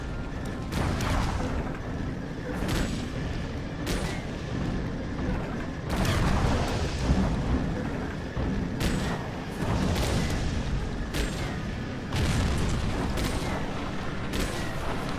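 Long-range cannon fire in the Chromehounds mech video game, with booming shots repeating every second or two over a continuous rumbling battlefield background.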